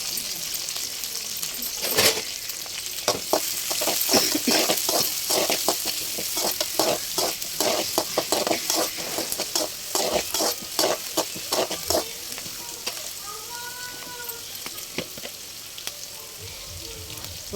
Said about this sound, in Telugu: లో ఫ్లేమ్లో పెట్టుకొని పచ్చివాసన పోయేంత వరకు వేపుకున్నానండి